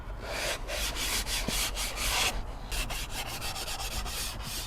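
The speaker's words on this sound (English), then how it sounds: "So I'm gonna sand this down with just a 400 grit sandpaper." Wood being hand-sanded with 400 grit sandpaper while a cabinet is built for a coffee van conversion. Steady rhythmic rubbing strokes come close up, with short pauses between passes and no talking.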